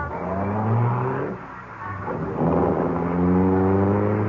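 A car engine revs and pulls away in a radio mystery drama, a loud continuous rumble that dips briefly and then rises again as the vehicle accelerates off.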